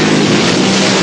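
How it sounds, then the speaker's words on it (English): A vintage drag racing dragster engine roars during a burnout at Santa Pod, a very loud, dense, continuous blare filling the whole brief moment. "Hayward's car sounds strong"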